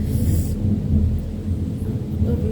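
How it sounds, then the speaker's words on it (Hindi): A thunderstorm rolls with deep, continuous thunder rumbling beneath a steady hiss of heavy rain. It is loud and close throughout, with no voices. "बहुत बारिश हो रहा है व्यूअर्स। यहाँ जैसे थंडरस्टॉर्म हो रहा है।"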